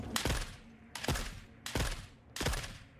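Rifle shots from The Forever Winter ring out four times, loud and sharp, about one per second, each with a short echoing tail and no talking over them.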